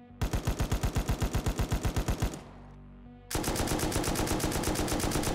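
A new heavy machine gun resembling the M2 fires in the video game Rust: a long, evenly paced burst of loud, punchy shots, a short pause with a mechanical rattle, then a faster continuous stream of fire.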